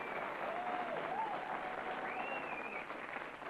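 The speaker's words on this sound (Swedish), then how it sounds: "Gärna applåder." Studio audience on a 1997 Swedish TV talk show applauds, a steady, dense patter of many hands that stays fairly even throughout, with faint tonal sounds drifting underneath.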